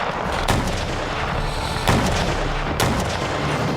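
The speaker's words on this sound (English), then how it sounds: "a bombardment of artillery shells at the city's walls" Artillery shells bombard a city's walls in a Napoleonic-era siege at Ulm, heard as three heavy booming impacts spaced about a second and a half apart over a dense, continuous rumble of gunfire.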